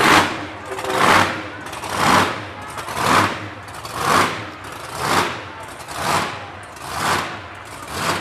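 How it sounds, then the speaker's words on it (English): The Bojangles monster truck at a Christmas parade, its engine roaring in loud, rhythmic surges about once a second, rising and falling in regular pulses close by. "It's the Bojangles Monster Truck."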